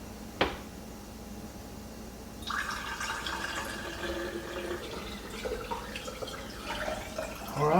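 Pork bone broth is poured into a jar, a soft close liquid trickle and splash after a sharp knock, continuing with small clinks toward a louder finish.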